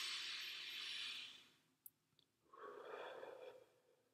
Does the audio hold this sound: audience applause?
no